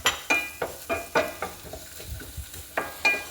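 Chopped onions fry in butter in a pan, with a steady run of scraping stir strokes roughly every third of a second over a soft sizzle, close and without talk.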